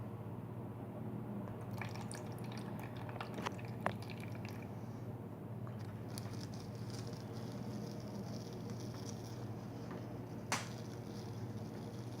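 Soy sauce pours into a container for a pH test, a faint, steady liquid trickle with occasional soft drips over a low background hum.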